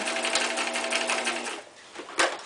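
A sewing machine runs a fast, close, steady stitching burst while back stitching the side of a fabric eye mask, then stops, followed by a brief clack of handling.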